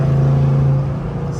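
Steady low engine hum and road drone inside a Ford Crown Victoria after an exhaust repair, heard from the cabin as a continuous, fairly loud whir with no talking.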